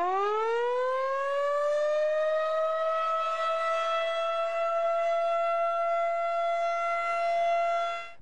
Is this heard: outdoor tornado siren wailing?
yes